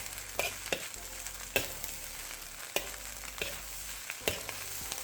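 Halibut fried rice with green onions is stir-fried in a pan: a steady soft sizzle with regular scraping strokes of the spatula about once a second, close and moderately quiet.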